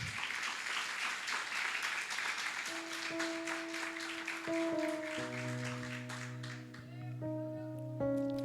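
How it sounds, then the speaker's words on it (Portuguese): Applause from a church congregation, a fairly faint spread of clapping that continues while sustained organ or keyboard chords begin to swell underneath and grow toward the end. "Pode aplaudir Jesus?"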